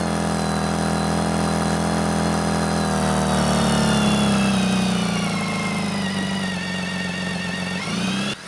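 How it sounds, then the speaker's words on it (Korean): A BMW K1600B motorcycle fitted with a Remus muffler is ridden on the road near Jinhae. The engine note is loud, smooth and close, and its exhaust pitch climbs steadily under throttle before dropping off at the end. "머플러 소리를 담기 위해서 살짝 당겼습니다."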